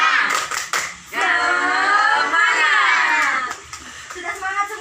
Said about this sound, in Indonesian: kita akan melakukan tepuk semangat dulu